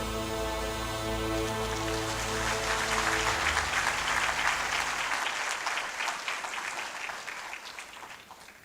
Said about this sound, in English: So the applause says it all.